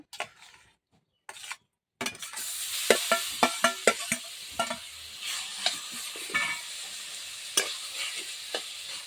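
A chhana and sugar mixture for kanchagolla sweets cooks in a wok under steady stirring, with irregular scrapes, clacks and light sizzling close by after a few brief knocks at the start.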